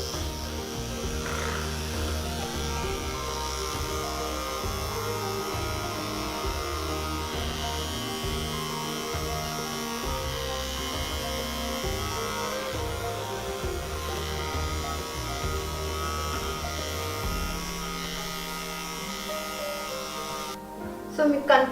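Electric facial hair removal machine running steadily at home, a close, continuous buzzing motor hum that holds for about twenty seconds before a shift in tone and a few handling clicks at the end.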